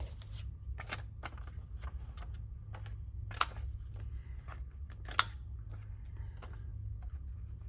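Scissors snip paper while a tall document journal is being made, giving a run of quick, crisp cuts and rustles, fairly close and moderately loud, with no talking.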